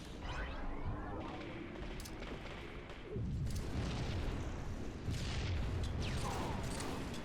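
A cannon fires in a video game, with deep booming blasts and crackling bursts rolling over a low rumble, the heaviest hits landing midway and again near the end.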